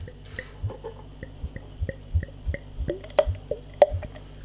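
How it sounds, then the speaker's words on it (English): Double Cone DIPA craft beer poured from a can into a glass, a run of close, rhythmic wet glugs and drips that grow louder toward the end, with no talk. "that gluggy kind of engine oil sound as you're pouring it"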